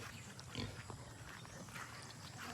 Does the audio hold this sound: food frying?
no